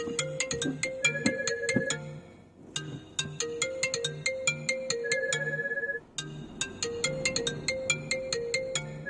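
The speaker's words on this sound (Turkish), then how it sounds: "çok affedersen bu telefonu cevaplamam gerekiyor" A phone ringtone plays a bright repeating electronic melody over and over, steady and fairly close.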